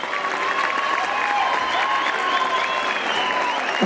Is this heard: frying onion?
no